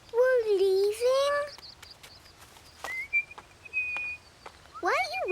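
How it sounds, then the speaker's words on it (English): A cartoon character whistles a bright, warbling melody in several short, sliding phrases, with thin high tones between them and a final rising run, close and clear. "Why are you whistling?"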